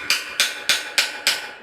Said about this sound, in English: So this way we hammer in this, what do you think that's called? A bolt extractor?